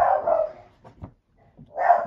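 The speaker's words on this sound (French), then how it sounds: "Je ne peux jamais faire de vidéo sans que mon chien n'aboie et ne se manifeste." A pet dog barks indoors in a home, with a few loud, close barks at the start and end separated by softer yips and a short quiet gap.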